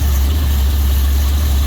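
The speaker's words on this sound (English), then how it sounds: "How about we idle? Can we idle the engine down a little bit?" A 1955 Dodge engine idling: a loud, steady low rumble close by that holds even and unbroken throughout, with no voices over it.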